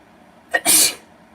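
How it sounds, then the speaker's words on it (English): A single sharp sneeze from a woman at home, a quick inhaled catch followed by a loud, breathy burst lasting about half a second, close and alone. "I'm going to sneeze."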